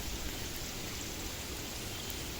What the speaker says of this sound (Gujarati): વરસાદ આવી ગયો તો પલળી ગયા થોડાક.